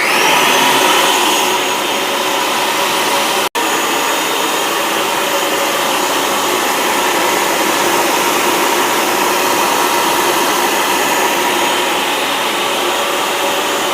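A food processor grinds granulated sugar into powdered sugar, making a loud, steady whirring roar that runs unbroken for about fourteen seconds with only a brief dropout near the start.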